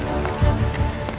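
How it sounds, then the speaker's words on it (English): Inside the cockpit of Air France Flight 447, ice crystals strike the aircraft in a dense, rain-like crackling patter over a deep, steady rumble. "Experts analysing the black box tape believe it's the sound of ice crystals hitting the aircraft."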